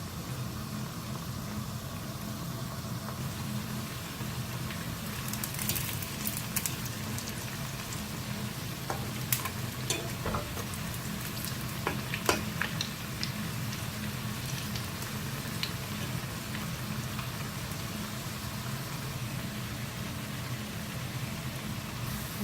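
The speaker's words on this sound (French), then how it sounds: "Voilà la cuisson, on les laisse cuire tranquillement et après on va les retourner" Steady crackling sizzle of honey beignets frying in hot oil in a pan, with scattered little pops and spits, no voices.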